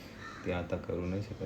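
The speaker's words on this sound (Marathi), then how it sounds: "ऐकायला येत असेल पक्ष्यांचा आवाज." A crow caws repeatedly outdoors near a balcony in the early morning before daylight, moderately close, with someone talking over the calls.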